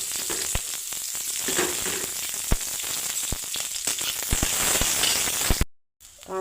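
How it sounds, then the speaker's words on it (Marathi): Onion frying in hot oil in a wok (kadhai) for Maharashtrian masala stuffed brinjal, with a steady close sizzle and occasional sharp crackles, cut by a brief silence near the end. "तेल गरम झालंय, कांदा भाजला."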